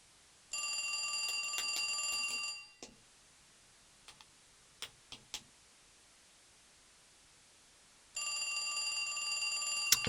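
Telephone ringing in the PC video game J. B. Harold: Blue Chicago Blues, an electronic bell trill sounding for about two seconds, then a gap with a few faint clicks, then ringing again.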